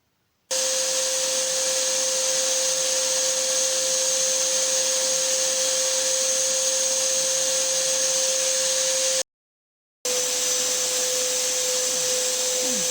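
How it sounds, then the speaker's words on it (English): A portable vacuum cleaner with a faulty, ineffective filter runs with a steady whine and airy roar, cuts off briefly, then starts again and keeps droning. "a video showing emissions from a vacuum cleaner where the filter just isn't working"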